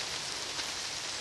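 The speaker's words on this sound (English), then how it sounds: "Can you hear that? Can you hear the rain?" Rain falls outdoors in an early-morning setting as a steady, bright hiss of drops that stays level and close for the whole brief moment, with no voices.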